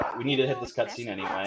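Dogs yip and bark faintly in the background of a home setting, mostly buried under continuous close speech.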